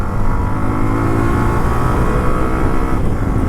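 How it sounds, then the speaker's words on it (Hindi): A Hero Xtreme 125R motorcycle, the CBS-braked variant, runs with a steady, loud, close engine drone and a low, even exhaust note that neither rises nor falls. "साउंड भी गाड़ी का जो है ना वो काफ़ी बढ़िया लग रहा है"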